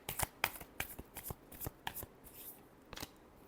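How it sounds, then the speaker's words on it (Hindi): Tarot cards are shuffled by hand in a quick series of crisp riffling bursts and soft slaps, close and alone, with short pauses between shuffles. "चलिए देखते हैं लास्ट शफल।"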